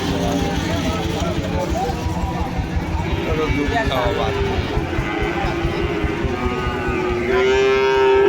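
A Mundi breed bull calf at a cattle market in Joypurhat, heard amid continuous voices and market bustle, with a drawn-out low moo rising near the end.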